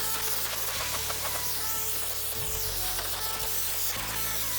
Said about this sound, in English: I'm gonna take this brake parts cleaner, Mickey's favorite tool there is, and spray